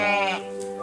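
Sheep on a farm at Masimanimba, one wavering bleat sliding down in pitch, fairly close and clear over faint background noise.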